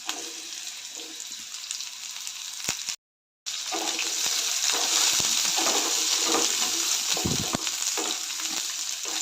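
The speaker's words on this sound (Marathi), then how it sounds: "बारीक चिरलेला दोडका घालते दोडका आपण तेलामध्ये थोडंसं परतून घेऊया" Chopped ridge gourd sizzles in hot oil with mustard seeds and cumin, a steady close frying hiss broken by the scrape and clatter of stirring, with one brief moment of silence.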